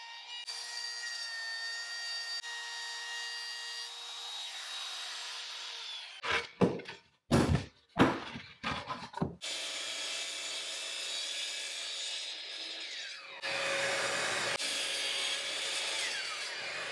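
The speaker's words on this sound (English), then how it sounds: "I traced the base of the sander and routed out a 1/4 of an inch deep into the 3/4 inch plywood." A router cuts a recess a quarter inch deep into 3/4 inch plywood, following a traced sander base. A steady, close whining roar runs throughout, broken midway by several short, choppy bursts before the even cut resumes.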